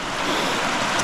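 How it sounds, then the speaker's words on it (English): Rain pours over a rising, flooding creek at a gold-detecting spot, a loud unbroken wash of falling water and rushing flow, roughened by wind buffeting close to the microphone. "It's still raining on me now"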